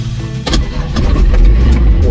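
A van's car engine cranks and fires into a steady idle, a loud low rumble that settles in after a brief crank near the start.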